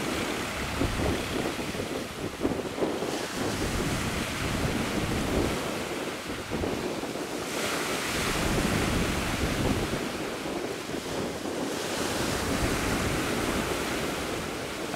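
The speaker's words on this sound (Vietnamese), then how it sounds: "biển thì xuất hiện những cái cơn sóng phải nói là cũng lớn hơn bình thường rồi các bạn ơi" Heavy storm-driven sea waves surge around a passenger speedboat ferrying tourists out to an island in gloomy weather, a continuous loud roar of surf and rushing water with strong wind buffeting the microphone throughout.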